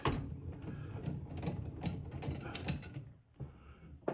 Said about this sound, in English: I'm not gonna run the lathe, I'm just gonna turn that by hand.